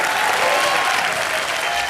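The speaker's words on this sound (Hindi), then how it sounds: "जोरदार तालियां हो जाए भारती और करण के लिए" Studio audience applause at a Hindi TV comedy show, a dense, steady wash of clapping that stays loud and even from start to finish, with no speech over it.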